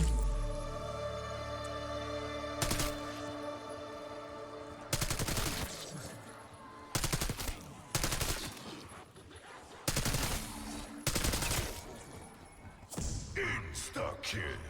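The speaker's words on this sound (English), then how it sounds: "So I'm gonna start using my gun." Gunfire from the player's weapon in Black Ops 6 comes in several loud, sharp automatic bursts separated by short gaps, over a steady tonal game soundtrack.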